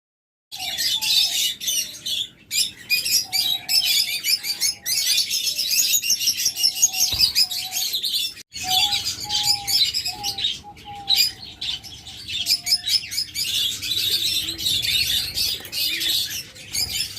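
Lovebirds chirp and tweet almost nonstop in a small flock, bright high calls layered with occasional squawks, close and loud with no talking.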